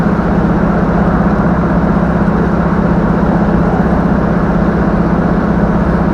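An LS-swapped GMC Sonoma truck with issues drives along, its engine a steady loud low drone with constant road and cabin rumble and no change in pitch.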